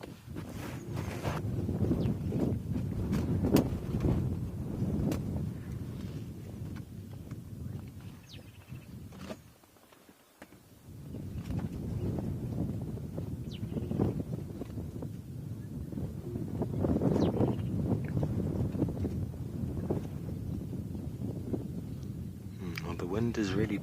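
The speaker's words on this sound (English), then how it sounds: "wind has really picked up today. Very nice cool breeze blowing across us here" Strong outdoor wind gusts buffet the microphone in a steady roar with low rumbling surges, easing briefly midway before picking back up, with a voice talking over it at times.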